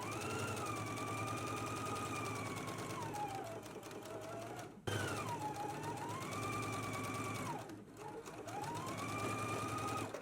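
A home sewing machine runs a long, steady whirring stitch along a 5/8-inch seam, attaching a garment facing. It pauses briefly twice and then resumes at an even speed, close and clear.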